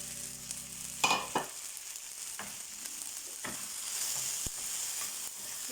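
Okra is stirred with wilted onions in a frying pan: a soft steady sizzle under a few sharp scrapes and clanks of the utensil against the pan, close and fairly quiet.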